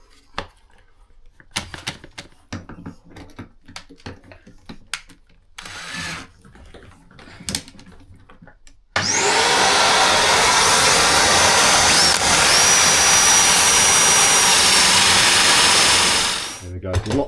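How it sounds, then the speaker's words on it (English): Scattered clamp and tool clatter gives way to a loud, steady power drill boring a Forstner bit through an MDF cabinet door for several seconds, then it stops. "Lots of lifting up as I was drilling through there."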